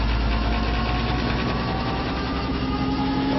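ReGen-X generator motor running steadily at 600 RPM, a continuous close hum with a whining tonal drone and faint vibration, unchanging throughout with no voices.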